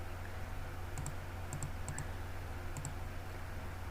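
A keyboard connector plugs into a PS/2 port on a desktop PC, giving a few faint, sharp plastic clicks in small pairs over a quiet background hiss.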